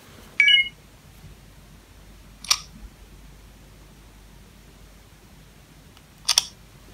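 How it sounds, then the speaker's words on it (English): A few short iPhone 4S iOS 6 electronic chimes and clicks spaced apart in near silence: a bright chirp at the start, then two brief crisp tones seconds apart. "the best thing about classic iOS is definitely the sound effects"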